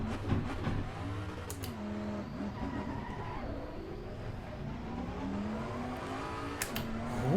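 A Bentley GT3 race car with a V8 engine, driven in Assetto Corsa Competizione, revs and changes pitch steadily as it runs through corners, its loud engine note rising and falling over a continuous rumble.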